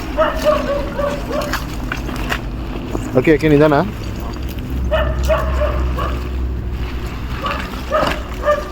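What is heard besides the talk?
dog barking in a forest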